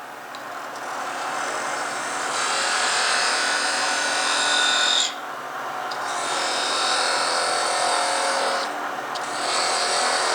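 A power tool cuts three 55 mm grooves in a lighthouse grinder workpiece with a parting tool: a loud, steady high whine that runs in two long passes broken by a short pause, close by and without speech.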